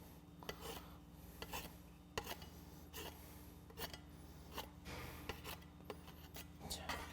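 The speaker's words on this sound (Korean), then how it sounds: "스크래퍼 이용하셔서 끝에만 잘라주겠습니다" A pastry scraper scrapes and taps along the edges of apple pie dough in a bakery class, a series of soft rasping strokes with sharper clicks against the work surface, faint and close, no voices.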